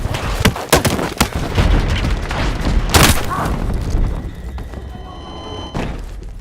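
Sniper rifle fire in the shooter game Battlefield 6: a rapid string of loud, sharp gunshot cracks and booms, with a heavy blast near the three-second mark and a rumbling tail afterward.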